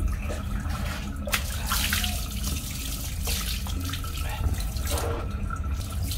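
Running tap water rinsing an Epson ink waste pad, a continuous splashing flow into a sink with some irregular spatter and drips, moderately close.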